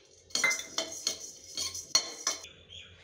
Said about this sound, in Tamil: ஜீரகத்தை வந்து ரொம்ப நல்லா வறுக்க வேண்டாம், லேசாக சூடு பண்ணாலே போதும்.